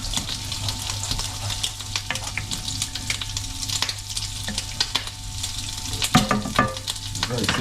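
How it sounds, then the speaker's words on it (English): Squid frying and sizzling in a pan, with steady crackle throughout and occasional scraping strokes as it is stirred, close and moderately loud. "This squid is cooked. And then I'll give this a stir."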